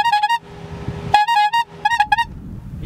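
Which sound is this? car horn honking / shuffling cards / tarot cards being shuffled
car horn honking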